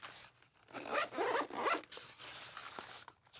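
Zipper closing on a Bagsmart tech organizer pouch, a close, fairly quiet series of short ratcheting zips over a few seconds, with no talking.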